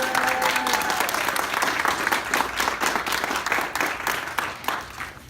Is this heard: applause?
yes